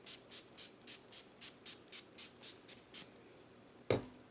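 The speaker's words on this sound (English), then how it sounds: "NYX NYX whatever with the Dewy finishing spray." A quick series of about a dozen short, even bursts of NYX dewy finishing setting spray on a face, close up, followed by a single sharp tap.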